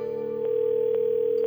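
Outgoing call ringing through a phone line to a radio listener, a steady tone with faint periodic clicks, heard clearly and alone with no talk.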